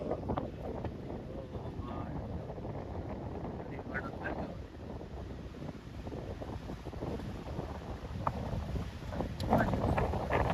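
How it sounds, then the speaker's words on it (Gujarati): Strong wind buffets the microphone in a steady roar on Madhavpur beach, with the churn of high, large sea waves blending underneath. "અત્યારે પવન એટલો ફૂંકાઈ રહ્યો છે કે ભાઈ મોજા બહુ જ હાઇટેડ છે અને મોટા છે"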